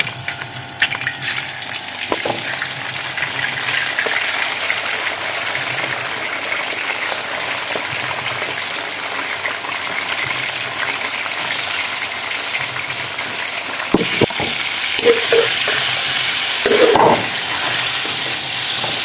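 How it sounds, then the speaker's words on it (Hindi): One kilogram of chicken fries in hot ghee for a degi-style chicken korma, giving a steady, dense sizzle that carries on throughout with a few brief clinks of a utensil near the end. "चिकन जो है इसका कलर तब्दील होने तक हम इसको फ्राई कर लेंगे।"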